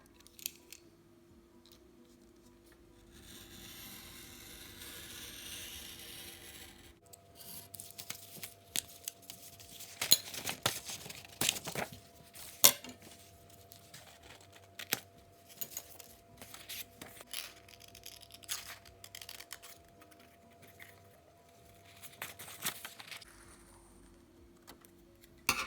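Scissors cutting out a paper packaging template, a long run of close, crisp snips and paper rustling with irregular sharp clicks, faint and alone without talk.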